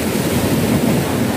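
Sea waves wash steadily onto a sandy beach in a continuous, close roar of surf, with wind buffeting the microphone throughout and no pause.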